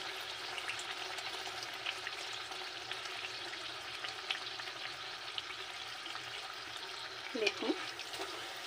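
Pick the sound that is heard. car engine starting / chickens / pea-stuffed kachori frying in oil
pea-stuffed kachori frying in oil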